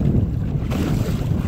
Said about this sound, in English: I think the wind out here is about 12 miles per hour maybe.